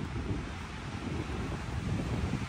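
Strong wind buffets the microphone high on Grandfather Mountain in North Carolina along a rocky hiking trail, producing a continuous loud, low rumbling roar with no pauses or voices.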